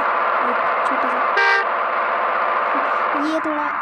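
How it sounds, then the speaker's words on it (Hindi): A single short, bright horn honk sounds in the BUSSID bus simulator game, cutting above a constant loud engine drone with other tonal game sounds around it. "फुल भगाएंगे हॉर्न तो मारेंगे ना एक छोटा सा"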